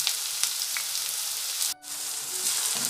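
Finely chopped shallots frying in hot oil for okra stir-fry, a dense, steady sizzle close by that briefly dips before the hiss resumes.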